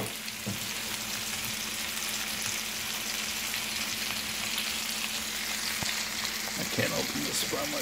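Pinot Noir wine poured into a hot pan with chicken breasts, giving a steady close sizzle and crackle that runs through the whole stretch, with a brief stir or clatter near the end.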